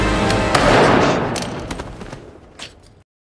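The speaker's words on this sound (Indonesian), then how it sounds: "ternyata Jude malah menembak hulunya sendiri" Gunfire in a film scene, a loud booming shot followed by several sharp cracks and echoing reports that fade out over a few seconds.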